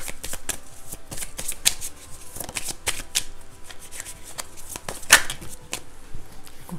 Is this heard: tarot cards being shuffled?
yes